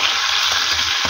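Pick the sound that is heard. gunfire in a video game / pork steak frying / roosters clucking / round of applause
pork steak frying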